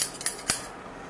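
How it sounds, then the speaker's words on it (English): Scissors snip open a taco seasoning packet in a kitchen, three or four quick crisp cuts in close succession, the last snip sharpest, with quiet surroundings and no talking. "Make a little snip there."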